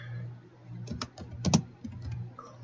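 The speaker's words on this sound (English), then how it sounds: "now we're going to type in Disk Cleanup." Quick keystrokes on a computer keyboard entering a search term, a few irregular clicks in small bursts with a steady low hum beneath, close and fairly quiet.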